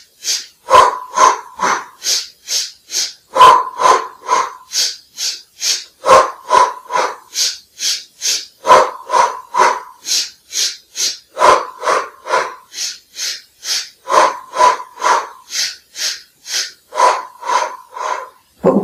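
Rhythmic breathing during an exercise with the legs raised, loud close breaths in a steady regular pattern of sharp inhales and exhales repeating for the whole stretch with no talk.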